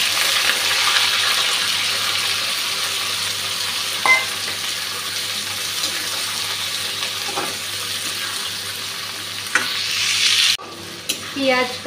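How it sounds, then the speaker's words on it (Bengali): Onion and tomato frying in a wok as they are stirred make a steady close sizzle, with occasional scraping strokes and clatter toward the end. "এখন পেঁয়াজ আর টমেটোটা দিয়ে দিচ্ছি।"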